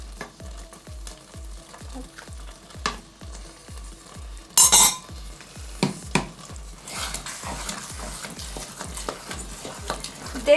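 Risotto with ham, peas and mascarpone stirred in a pan, a steady rhythmic scrape of the spoon repeating about once a second over a soft sizzle, with a brief clatter of utensils midway.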